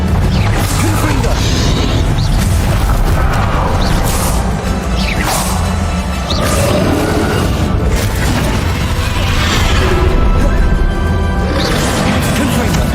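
Confringo fire spells blast repeatedly in Hogwarts Legacy combat, loud booming impacts and crashing whooshes recurring every few seconds over dense game noise and music, with a voice speaking in places.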